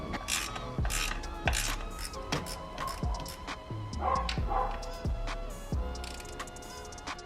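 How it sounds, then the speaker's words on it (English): A ratchet clicks through a series of tightening strokes on the rocker cover bolts of an Audi TT, each burst of ratcheting followed by a sharp knock, close and fairly loud with no talking. "now we're doing just putting the bolts on. Gonna tighten them up from the middle going outwards, and then like a star pattern"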